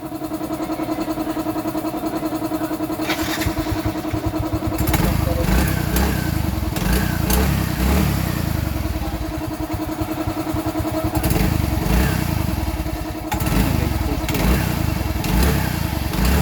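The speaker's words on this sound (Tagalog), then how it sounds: "Nakaon yung motor mo." A motorcycle engine runs nearby with a steady idle that swells into brief revs and settles back, while people talk over it.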